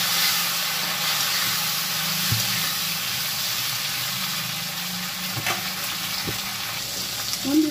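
Chopped tomato fries in a pan with a loud, even sizzle and hiss, broken by a few soft stirring knocks.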